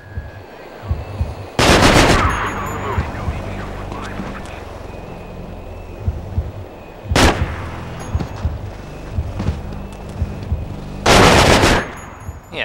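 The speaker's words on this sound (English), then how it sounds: "he was just sort of firing into the distance to scare us away" Distant gunfire in the stealth video game Manhunt, with three loud broadband bursts of rapid shots at about 1.5, 7 and 11 seconds over a low rumbling ambient bed.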